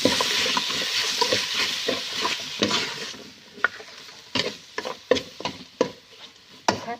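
Chili paste stir-roasted in a pot: a sizzling scrape of spoon against metal, then sharper, irregular stirring strokes over a quieter sizzle, heard close with no talk.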